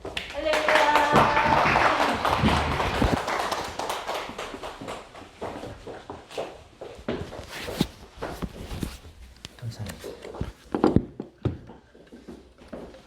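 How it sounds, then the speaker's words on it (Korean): A church congregation at a Sunday worship service claps to welcome the pastor, a dense burst of applause that thins into scattered, uneven claps before fading out. "목사님 나오실 때 우리 박수로 환영하겠습니다."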